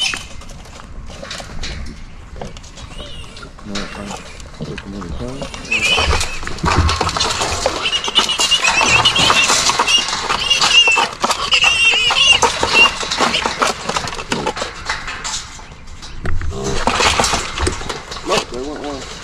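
Pigs, seven piglets and a sow, being loaded into a truck, with high-pitched squeals, grunts and metallic clatter that build into a loud, busy stretch, while people talk nearby.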